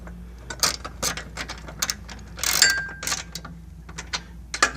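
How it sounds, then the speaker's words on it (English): A 1/2 inch socket ratchet tightening bolts while an infrared barrier is mounted to a frame, giving close clicking and ratcheting bursts, uneven and intermittent, with a denser run of clicks midway. "Take your 1/2 inch socket"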